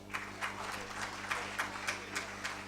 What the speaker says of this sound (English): put your hands together and applaud the outstanding students for their achievements